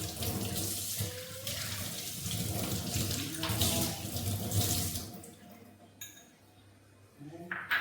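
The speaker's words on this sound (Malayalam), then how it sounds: "കണ്ട കൈ ഒന്ന് കഴുകിയിട്ട് വരാം." Water runs steadily from a tap over hands being washed for about five seconds, then shuts off, leaving a quieter room with a few small clinks and knocks near the end.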